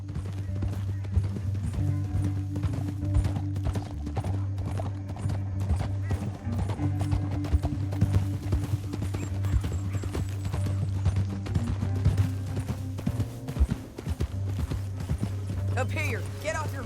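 Horse hooves gallop in a steady clip-clop rhythm throughout a Red Dead Redemption 2 ride, with occasional whinnies, game music and characters talking over them.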